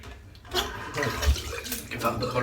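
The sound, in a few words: rinsing face with water after a shave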